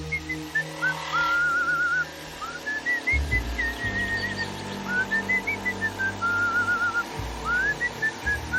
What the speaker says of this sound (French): Pardon, mais j'adore siffler en bricolant.